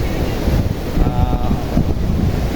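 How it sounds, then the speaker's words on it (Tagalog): Small, gentle sea waves wash on a Boracay beach during the off-season habagat, a steady broadband surf rumble with wind buffeting the microphone throughout. "Maganda ito dahil may kunting alon yung dagat"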